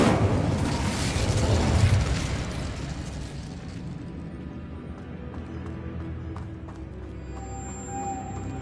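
A fire spell cast in Hogwarts Legacy erupts with a loud whooshing burst of flame that peaks early, then fades into a softer lingering crackle, with faint game tones near the end.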